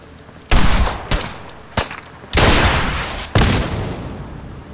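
Gun turret traps in Fallout 4 fire in several loud bursts of rapid automatic gunfire, some short and some sustained, with brief gaps between volleys.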